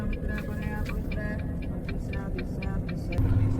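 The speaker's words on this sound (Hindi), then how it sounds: "अब ये देखो अभी हॉर्न मार रहा है" A vehicle horn sounds in an industrial area in the UAE as a rapid series of short, repeated tonal beeps over a low, steady engine rumble.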